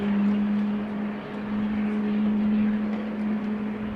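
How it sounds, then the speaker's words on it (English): GE90 jet engines starting up on an airliner at Amsterdam Schiphol Airport, a steady loud whine over a low rumble, heard from a distance without interruption. "Are those GE90s being started?"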